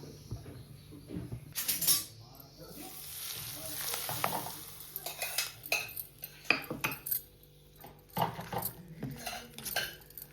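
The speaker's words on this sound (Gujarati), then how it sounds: "તો આ રીતે તેલ ગરમ કરીને એમાં પછી નાખી દેવાનું છે" Hot oil poured over a Rajasthani onion chutney seasoned with salt and chili, giving a bright sizzle followed by scattered clinks of a spoon against a steel bowl as it is mixed, close and moderately loud.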